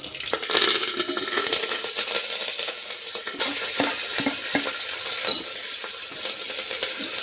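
Coriander seeds, dried chillies and curry leaves fry in a pan for tomato rasam, making a steady sizzle with light crackles and scraping stir sounds, close and alone without talk.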